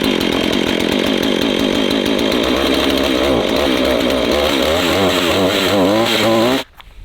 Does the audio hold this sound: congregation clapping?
no